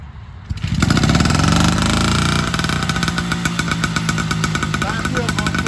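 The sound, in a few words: vintage 1950 New Hudson Autocycle engine started by pedalling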